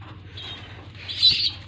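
A tame white pigeon in a loft gives soft, faint bird calls, with a brief brighter chirping burst near the end and no voices over it.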